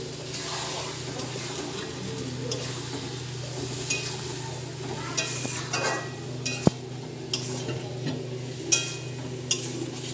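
Spice paste frying in oil in a pan for a jackfruit and prawn dish, a low steady sizzle broken by repeated sharp clicks and knocks of a spoon on the pan, close and moderately quiet, no speech.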